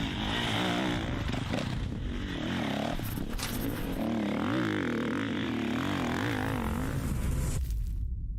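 Several motocross bikes rev loudly together at the start gate of a state championship race, a steady, wavering roar that holds for several seconds, then cuts off abruptly at the end.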